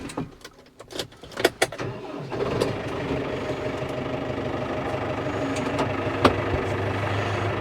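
A farm vehicle's engine cranks in several quick bursts, catches and settles into a steady, close idle to circulate oil and fluids while a cattle yard is being built.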